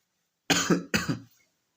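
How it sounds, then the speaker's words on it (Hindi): Two quick, harsh coughs close to the microphone, one right after the other, followed by quiet. "खांसी ऐसी हो रही है, तबीयत खराब होगी सर्दियों में"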